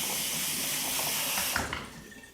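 Tap water runs steadily into a kitchen sink while produce, likely a potato, is rinsed, a close continuous hiss and splash that shifts and fades out as the flow stops.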